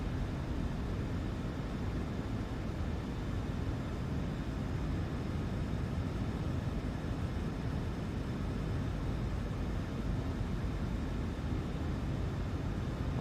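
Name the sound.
aircraft flying in Microsoft Flight Simulator 2024 video game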